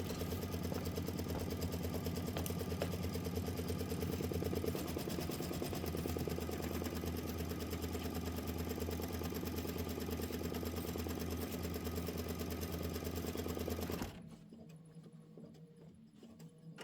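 A home embroidery machine stitches a placement line for the background on a quilted snow-themed pillow, a steady, close mechanical hum and rapid needle clatter running continuously, then stopping abruptly near the end, leaving quiet room tone.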